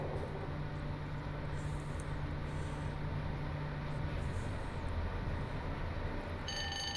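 Class 87 electric locomotive in Train Simulator Classic running through a neutral section, a steady rail rumble with a low hum that drops out partway, then wheel-on-track noise and a high tone returning near the end; no talking.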